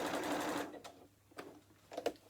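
A sewing machine stitches across two joined fabric hexie pieces in a fast steady whir for about half a second, then stops, leaving a few faint clicks and taps.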